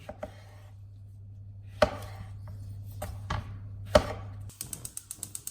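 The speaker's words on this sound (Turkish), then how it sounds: "Domatesimi dörde bölüyorum." A knife chops through a tomato on a cutting board, giving several sharp, close taps at irregular intervals, then a quicker run of evenly spaced chops at the end, over a steady low hum, with no talking.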